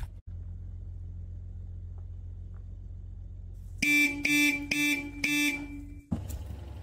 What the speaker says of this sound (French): vous pouvez klaxonner toute la journée, monsieur le marquis